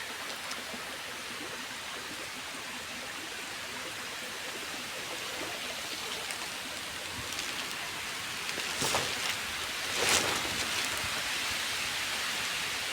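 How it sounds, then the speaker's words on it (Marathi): Steady, dense rain hisses throughout with no voices, broken by a couple of brief louder splashes near the end. "पाऊस लई जोरात पडाला आहे"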